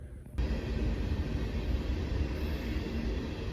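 After a brief moment, a loud, steady low rumble sets in from a train rolling past close by between Chattanooga and Memphis, holding constant to the end.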